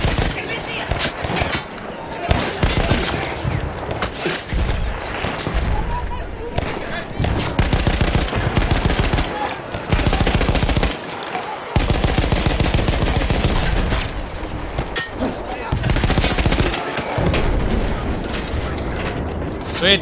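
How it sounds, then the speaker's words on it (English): A minigun fired in the World War I shooter Battlefield 1. Dense, loud bursts of rapid gunfire rattle almost continuously, broken by brief gaps and mixed with mechanical clatter and battle noise. "So it takes time to reload this minigun, whatever you call it."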